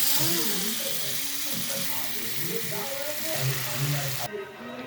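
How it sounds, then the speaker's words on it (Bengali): Cabbage pakoras dropped into hot oil give off a steady, close bubbling sizzle that hisses continuously, with a voice talking over the frying. "এবার আমি এখানে তেলও গরম হয়ে গেছে। এবার আমি আস্তে আস্তে পকোড়াগুলো ছাড়ব।"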